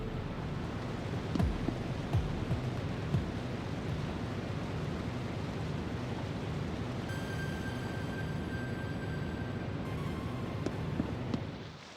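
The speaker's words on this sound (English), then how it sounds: "When going inside a building, the waterfall sound is run through a low-pass filter, and a more muffled waterfall sound fades in." Waterfall ambience in an indie video game: a steady, broad rushing roar of falling water that holds constant throughout, with a faint tonal hum appearing partway through.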